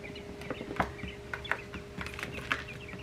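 Young quail chicks in a brooder give short, scattered peeps and chirps at an irregular pace, fairly near but soft, over a quiet steady hum.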